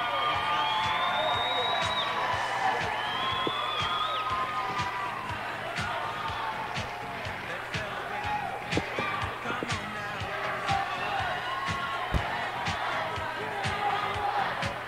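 A packed basketball arena crowd roars and cheers steadily, with whoops and sharp thumps scattered throughout at the University of North Carolina celebration, where people chant and talk amid the noise.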